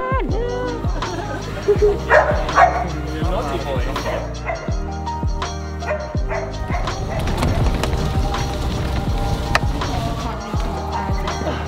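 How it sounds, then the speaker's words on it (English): Many dogs at a large equestrian facility bark and yip repeatedly in an overlapping chorus, loud and close, with people talking among the noise. "Oh my god, over 40 dogs live here."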